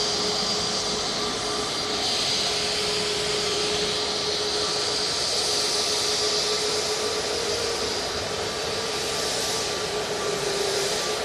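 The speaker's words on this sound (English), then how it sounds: "Jet2 A321 Neo coming on right in front of us now" A Jet2 Airbus A321neo airliner arrives at Manchester Airport, its engines a steady, broad roar with a thin high whine that holds evenly throughout, heard from nearby.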